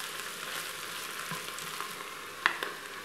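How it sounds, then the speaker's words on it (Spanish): Serrano ham cubes frying in a pan, a soft continuous sizzle with faint scrapes and one sharper clink as they are stirred around. "le añadimos los tacos de jamón serrano para que se cocinen un poco. Lo damos unas vueltas"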